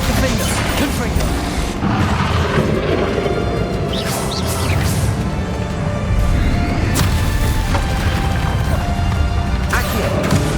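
Casting the Confringo spell in Hogwarts Legacy sets off dense, continuous combat noise of booming blasts, crashes and impacts layered over game music, with a character's voice calling out.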